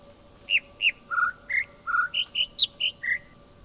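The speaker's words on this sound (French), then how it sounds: "C'est chiant les oiseaux quand ça piaille tout le temps." Birds chirping in the video game The Witness, a rapid run of about eleven bright, loud tweets close by, repeated in an irregular rhythm over a quiet ambient hum.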